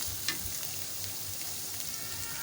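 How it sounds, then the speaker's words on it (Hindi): Mixed vegetables stir-fried in a hot pan for an aloo bharta-style dish, giving a steady, even sizzle close by with no voices. "और सारी सब्जियों को डाल के स्टीयर फ्राई कर लेंगे।"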